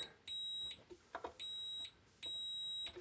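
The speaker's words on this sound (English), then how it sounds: "I have my multimeter set up in continuity testing mode, so you're going to hear little beeps" Three sustained high-pitched electronic beeps from a multimeter in continuity-testing mode on an NAD 3020 amplifier, each about half a second long, evenly spaced with short gaps, plus a faint click between the first two.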